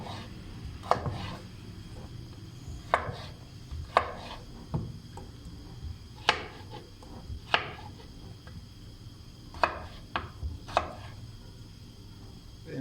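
A knife chops food finely on a cutting board, giving sharp, irregular knocks about once a second against a quiet kitchen background, with no talking.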